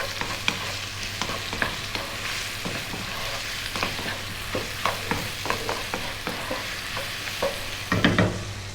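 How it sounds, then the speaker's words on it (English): Garlic, ginger and Chinese sausage sizzle steadily in a hot pan while a utensil scrapes and knocks through them in irregular strokes, close and continuous with no talking. "Let's get that garlic and the ginger, and now get that in."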